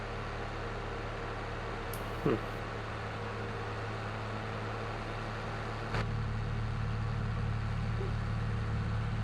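A tractor engine idles steadily in Farming Simulator 22, a constant low drone that shifts slightly in pitch partway through, with a couple of faint clicks on top.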